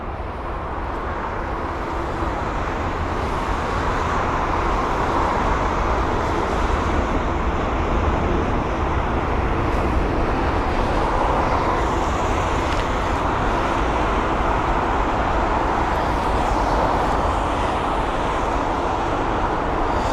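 At London Heathrow, an Air India Boeing 787 Dreamliner pushes back amid a constant loud roar of airport engine noise and broadband rumble that stays steady throughout.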